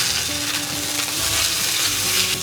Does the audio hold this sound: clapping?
no